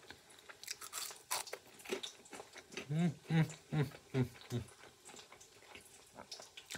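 Someone bites and chews crunchy, slightly burnt fried dough buns up close, a run of sharp crisp crunches followed by wet chewing, with a voice murmuring in between.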